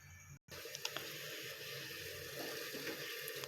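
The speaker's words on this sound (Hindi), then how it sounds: "अब मैं इसके अंदर ऐड करूँगी घी।" Desi ghee poured into a pan over a lit flame, a steady soft hiss and gurgle of liquid running continuously after a brief silent gap near the start.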